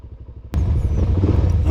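A Suzuki DRZ400 motorcycle rides through the desert. A soft idling putter cuts abruptly into a louder, rough engine roar with wind rumble, close to the microphone.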